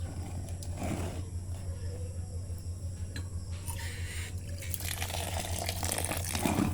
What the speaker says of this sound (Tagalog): lagyan lang po natin ng tubig